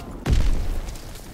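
A Fritz X bomb explodes in Call of Duty WWII on Pointe du Hoc, a single deep boom that hits suddenly and then rumbles away with a fading low tail.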